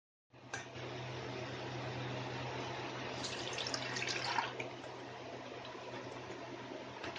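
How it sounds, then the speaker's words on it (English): Water running and swishing as quinoa is rinsed in a jar, a steady close hiss of pouring and sloshing that grows brighter and louder midway, with a low appliance hum underneath. "We'll need additional water to wash it."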